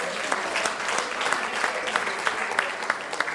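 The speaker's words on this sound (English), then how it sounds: "So another round of applause, please." An audience at an alumni association annual general meeting applauding, giving a dense, even round of many hands clapping at close range, with a few sharper individual claps standing out and no talking.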